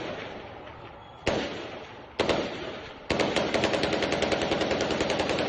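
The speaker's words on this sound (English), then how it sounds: "And now the guns have started." Gunfire rings out in a city street: two single loud cracks, then a long rapid burst of shots, sharp and echoing from some distance, with no voices.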